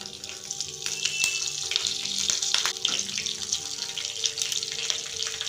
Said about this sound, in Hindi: और मिर्चों को 2 मिनट तक भूनेंगे।